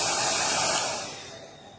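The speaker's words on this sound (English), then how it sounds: "Do you love the hairdryer?" A hair dryer blows steady broadband air noise close by onto a freshly bathed dog, loud at first and easing slightly softer toward the end, with no talking.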